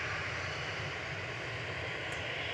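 A Ryanair jet departing Manchester Airport for Limoges produces a faint, steady engine roar heard at a distance, even and unbroken throughout.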